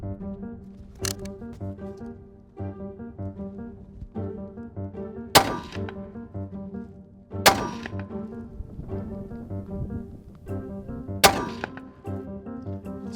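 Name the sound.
rifle gunshots while shooting a 3-shot group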